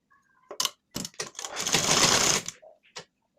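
Short bursts of a sewing machine stitching a lined blouse, a few quick stops and starts leading into one steady run of about a second, then a final brief burst, close and clear with no talking.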